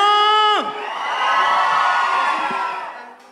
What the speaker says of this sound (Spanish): queremos escuchar, para que suene en el disco, un pinche grito rock and rollero